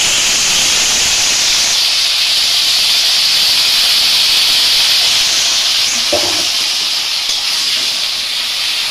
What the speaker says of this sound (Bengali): দেখো বন্ধুরা, আমি ফুলকপি ভাজা করছি।